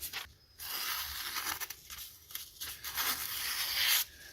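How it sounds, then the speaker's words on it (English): Phone book paper hisses and tears in a few smooth, continuous strokes as a knife blade slices through it, close and fairly quiet, with brief pauses between cuts. "It's barely making any noise in this phone book paper."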